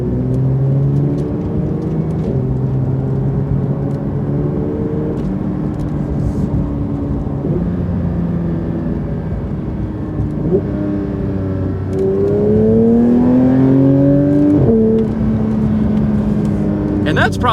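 Porsche 911 GT3 with a naturally aspirated engine, heard from inside while driving in traffic: a steady close drone that rises in pitch during brief accelerations toward the end, then settles.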